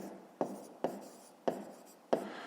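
Four crisp pen-on-paper strokes land at even intervals while numbers are written down in a quiet room during a fifth-grade math exercise.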